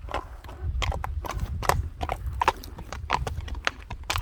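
A horse moves along with a steady, distinct clip-clop of hooves, sharp strikes repeating every half second or so against a low background rumble, fairly close and clear.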